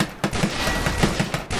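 Rapid bursts of sniper-style gunfire in a shooting video game, sharp cracks repeating irregularly at close range over a dense, noisy game soundscape.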